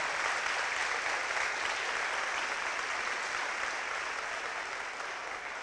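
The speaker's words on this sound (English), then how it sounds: "Give yourself a round of applause." A room of teachers claps steadily, a dense even wash of hand applause that fills the whole stretch and tapers only slightly near the end.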